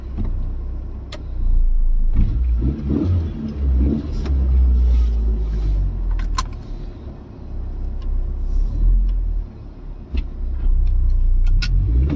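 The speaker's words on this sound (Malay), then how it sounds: "Kereta sini kadang laju" A car travels fast along a road near a forest, a loud low rumble that swells and fades as it passes, then returns, with some faint higher clicks over it.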